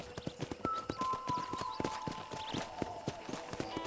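Horse hooves clip-clop at a steady walking rhythm in the Red Dead Redemption video game, the beats close and fairly even, with a brief whinny-like tone over the top and no talking.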